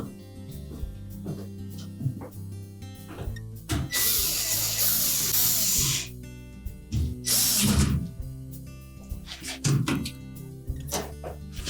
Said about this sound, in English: And we'll secure it with 2 mounting screws.